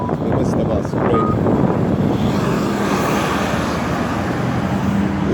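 Heavy eighteen-wheeler trucks roll past on a street near a bus stop and construction, a loud sustained roar of engine and road noise with wind buffeting the microphone throughout.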